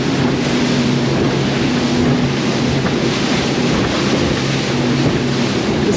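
A motorboat cruises across slightly choppy open sea toward Bimini with trim tabs down, a loud steady engine drone mixed with rushing wind and water noise throughout.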